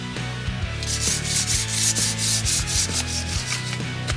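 A cork display is rubbed and polished with green thinner in quick back-and-forth strokes, the soft scrubbing steady and close over background music.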